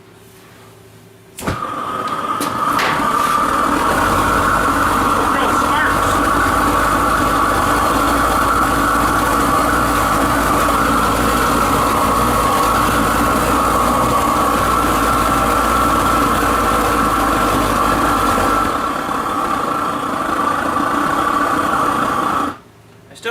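A homemade propane torch roars steadily for about twenty seconds during a test burn, lighting with a sudden whoosh and holding a loud, even hiss before cutting off abruptly near the end.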